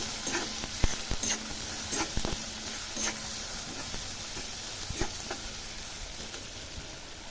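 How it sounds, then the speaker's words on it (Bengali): Pasta being stirred with pasta masala in a sizzling pan, a steady hiss of frying under intermittent scraping and clinking strokes of the spoon against the pan, close and fairly quiet, no voices. "পাস্তা মশলা আমি দিয়ে দেবো অল্প করে, সবগুলো নিয়ে মিক্স করে নেবো।"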